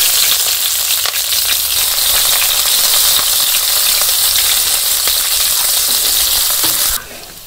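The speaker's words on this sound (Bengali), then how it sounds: "তো এই যে পেঁয়াজ কাঁচামরিচ ভাজা হয়ে গেছে" Onion and green chili fry loudly in hot oil with cumin for a village-style fish curry, a dense continuous sizzle and crackle up close that drops away abruptly near the end.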